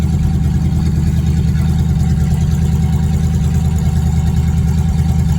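A 1959 Edsel's engine runs steadily at idle, a loud, close, low rumble with an even throbbing pulse and no voices over it.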